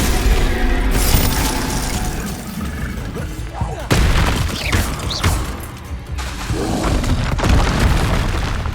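The Confringo fire spell exploding in the video game Hogwarts Legacy, heavy booming blasts with crashing, shattering impacts at about one, four and six seconds over continuous loud combat noise.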